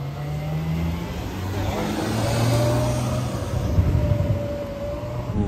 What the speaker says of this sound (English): Oh, a Ferrari F12 coming up the road.